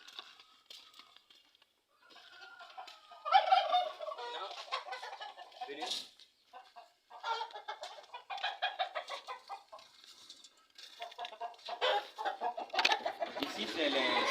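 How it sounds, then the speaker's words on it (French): Improved local hens mixed with Goliath chickens and laying hens on a farm in Akoumapé, Togo, cluck and squawk in irregular bursts from close by, with scattered calls throughout. "Ici, c'est le cas de poules locales améliorées et les poules pondeuses et les poules Goliath avec les poules locales."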